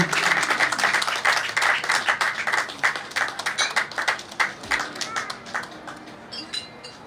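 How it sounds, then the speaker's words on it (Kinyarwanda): Guests at a dowry-giving ceremony applaud in a dense, lively burst of clapping that thins and fades toward the end, with faint voices mixed in. "amashyi menshi cyane"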